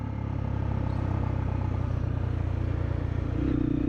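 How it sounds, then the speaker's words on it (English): Motorcycles run along an evening city street in Ho Chi Minh City, Vietnam, a dense, steady rumble of engines passing close by, loud and continuous without talk. "I heard the familiar sound of motorcycles"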